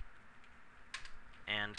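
Computer keyboard typing at a desk during setup of a testing server, a few scattered quiet keystrokes followed by a louder burst of clicks close by, with a voice speaking faintly in the background.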